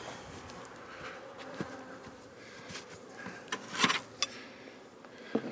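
Honey bees buzz around an open beehive during a late-season hive inspection in Newfoundland, a steady close drone with occasional louder passes of individual bees near the ear.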